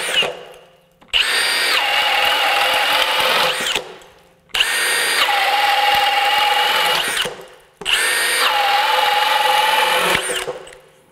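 A Milwaukee M18 FUEL 2906-20 half-inch hammer drill runs on high speed in three long, loud, close bursts of roughly three seconds each, with short silent pauses between them.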